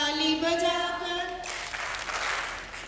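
Children clap hands in time with a patriotic Hindi song at a school Vijaya Dashami celebration, a steady burst of claps taking over from sung voices partway through.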